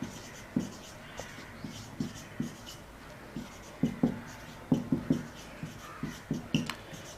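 Chalk or a marker writes a question on a classroom board in a lecture setting, making distinct taps and short strokes in an uneven rhythm, close and moderately loud.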